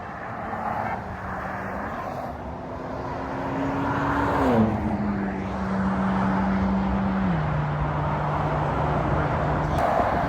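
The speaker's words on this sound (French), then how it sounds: "il y a la McLaren 12C qui arrive" A McLaren 12C sports car passes on a highway with a rising engine note that peaks and then drops as it goes by, heard from a moderate distance over steady traffic rumble.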